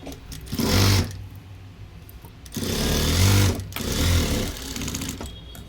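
A sewing machine stitches a blouse in three close, loud bursts of rapid mechanical whirring, separated by short quieter pauses.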